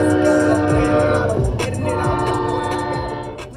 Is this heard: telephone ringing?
no